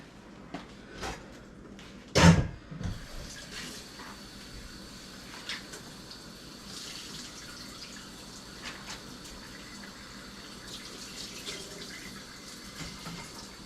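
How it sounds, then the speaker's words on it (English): Raw chicken wings rinsed under a running kitchen tap, a soft continuous water rush with a brief louder splash near the start, moderately close, with no talking. "so I'm gonna rinse these off real quick"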